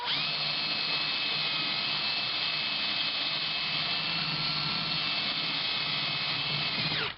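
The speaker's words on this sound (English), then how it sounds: "The only way to remove a rivet is to drill it out." A power drill whines continuously at high speed for several seconds, drilling out a rivet on a Simplex cinema projector, loud and close, with a steady pitch that cuts off abruptly at the end.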